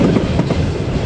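The 28 Down Shalimar Express, a Pakistan Railways passenger train, rumbles steadily with rhythmic wheel clatter as it runs through Yusufwala railway station on the Lahore to Karachi main line, loud and close with no talk.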